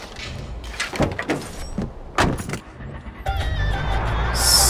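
A car arrives in Far Cry 4 with a series of thumps and door-like clunks, then an engine swells into a louder, sustained drone toward the end.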